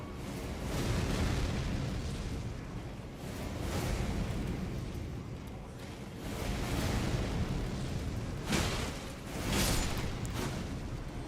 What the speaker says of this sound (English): oh, they are shooting cannons at me.